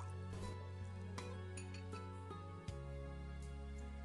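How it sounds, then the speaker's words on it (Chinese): A spoon stirs a sauce mixture of salt, sugar, soy sauce, oyster sauce, pepper and water in a bowl, giving a run of close, light clinks and scrapes against the dish in a quiet room. "搅拌均匀备用。"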